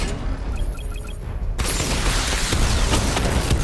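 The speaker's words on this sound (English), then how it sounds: "Charge up missile barrage to level 2 and destroy 4 active targets to complete diagnostic test." Batmobile missile barrage in Batman Arkham Knight, a brief electronic beeping charge-up that breaks into a loud, continuous rush of rapid missile launches and explosions.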